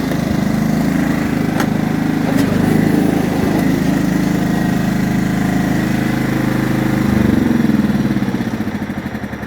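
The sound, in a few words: tractor engine starting and running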